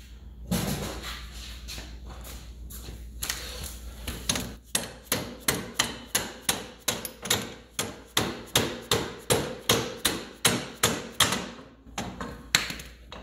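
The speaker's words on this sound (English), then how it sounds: "we've got to get it tapped into the bearings." Hammer blows tapping an axle hub into its bearings on a budget crosskart independent rear suspension, first a few scattered taps, then a long steady run of evenly spaced, close, sharp metallic strikes.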